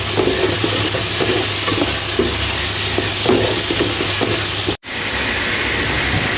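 Ground spice paste and tomato frying in hot oil, a loud steady sizzle with soft stirring scrapes, briefly cutting out for an instant near the end before resuming.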